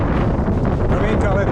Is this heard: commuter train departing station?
no